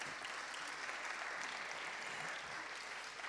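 An audience claps steadily at a workshop on solar self-consumption and building energy efficiency, a dense, even patter of many hands sustained throughout at a modest, somewhat distant level with no talk.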